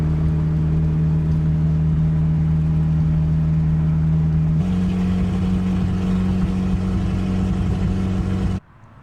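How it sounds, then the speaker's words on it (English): A Volvo 740 on new coilovers drives along with a steady, loud mid-range engine drone. The pitch steps up slightly partway through, and the sound cuts off abruptly near the end. "So the car drives great."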